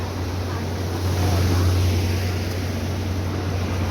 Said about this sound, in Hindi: The massive flow of Mandakini river.